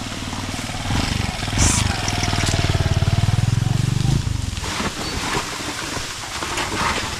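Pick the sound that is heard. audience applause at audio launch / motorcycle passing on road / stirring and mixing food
motorcycle passing on road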